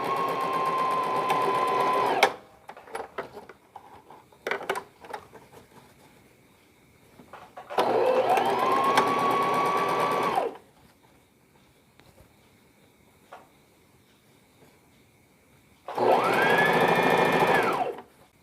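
An electric sewing machine stitches a fabric tote bag in three loud, fast whirring bursts of a few seconds each, separated by quieter pauses with small clicks and handling noises.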